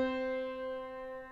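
Piano sounding a single sustained pitch followed by the same pitch an octave higher, steady ringing tones that fade gently, fairly quiet and alone.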